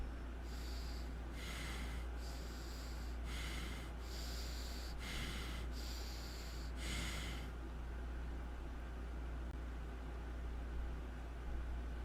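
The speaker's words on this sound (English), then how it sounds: "It's just breathing." Heavy breathing played back from a 2 a.m. voice message: about eight rhythmic snorting breaths in steady succession, then only low hiss and hum, faint and muffled.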